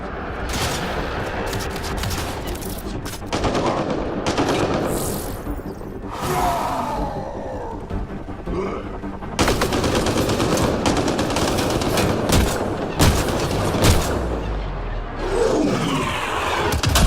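Sustained bursts of automatic weapon fire in the video game Mass Effect Andromeda rattle loudly and almost nonstop, punctuated by whooshes and booming impacts, with a brief lull before the shooting resumes harder.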